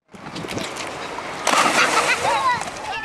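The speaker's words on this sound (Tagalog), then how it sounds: "Kung dati hindi makapagtampisaw ang mga batang ito sa ilog, ngayon malaya na nilang nagagawa ito." Children splashing and playing in a river: continuous sloshing, splattering water up close that grows busier halfway through, with high voices or squeals mixed into the noise.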